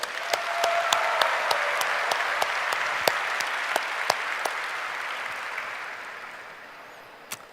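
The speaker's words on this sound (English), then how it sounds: "So let's give them a warm applause." Applause from an audience at a Google Developer Days India 2017 event fills the clip, a dense sustained clapping wash that swells early and slowly fades, with a few sharper individual claps standing out.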